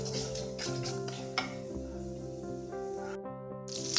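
Whole fennel seeds stirred in a pressure cooker: a steady, soft scraping and clinking of a spoon against the metal pot, quiet and continuous over a low hum, with no talk.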